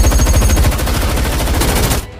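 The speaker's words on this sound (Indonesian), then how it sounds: "Situasi yang mencekam kala itu, baku tembak pun tak dapat terelakkan." A film shootout between armed robbers and officers brings a dense, loud, unbroken burst of automatic gunfire that cuts off abruptly at the end.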